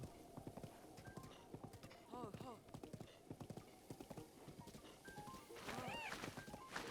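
Horse hooves pound in a quick galloping rhythm in The Legend of Zelda: Breath of the Wild, with occasional whinny-like calls and some talking mixed in.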